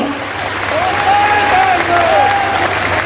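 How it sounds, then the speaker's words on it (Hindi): Loud, sustained applause from a large crowd at an outdoor political rally at a fair, a steady roar of clapping with a faint voice or whistle rising over it. "तालियों की गड़गड़ाहट से मेरी बात की समर्थन करो।"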